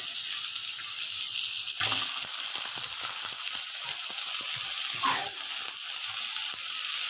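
A steady, loud sizzle of chopped onion frying in a hot pan, with a few soft stirring scrapes breaking through the hiss.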